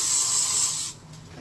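Hairspray blasts onto hair while a bun is being styled, a close, steady aerosol hiss lasting about a second before cutting off to near quiet.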